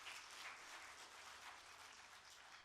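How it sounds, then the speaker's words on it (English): Steady audience applause for dancers of Sadhana Kala Kendra at a conference closing session, dense clapping sustained evenly throughout with no speech over it. "Please, everyone, give them another round of applause."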